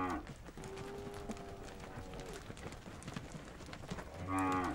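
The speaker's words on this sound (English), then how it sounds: "herds of cattle enveloped in clouds of dust" Cattle moo repeatedly amid a noisy outdoor herd in Borana, Ethiopia, with shuffling hooves and a loud, close low bellow near the end.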